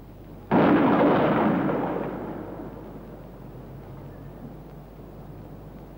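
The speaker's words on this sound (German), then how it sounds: "Vorführung einer Krupp-Kanone vor Adolf Hitler." A single loud Krupp cannon shot at a firing demonstration booms out, a sudden blast that rolls and decays over a couple of seconds into a lingering low rumble.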